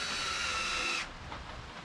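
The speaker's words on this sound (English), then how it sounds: "Just gonna spin this drill. We're gonna see oil pump out of that line." Power drill spins an engine's oil pump through the turbo feed line during an engine swap, giving a steady close whine for about a second before it stops, leaving low background noise.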